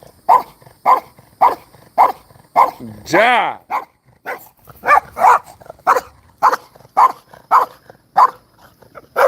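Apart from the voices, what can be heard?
dog barking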